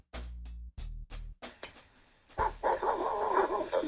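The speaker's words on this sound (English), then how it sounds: "And it sounds like more than one dog." Several dogs bark in sharp, rapid bursts, close by, followed by a noisy scuffle with overlapping yips and whimpers.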